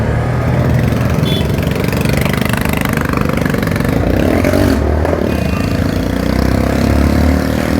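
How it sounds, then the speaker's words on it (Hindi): Hero Passion Pro motorcycle modified to thump like a Royal Enfield Bullet, a loud, continuous engine drone mixed with surrounding traffic noise on a road trip out of Lucknow. "पैशन प्रो को बुलेट बनाया जा रहा है"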